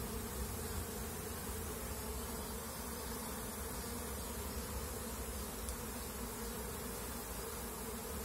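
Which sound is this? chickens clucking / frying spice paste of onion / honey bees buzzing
honey bees buzzing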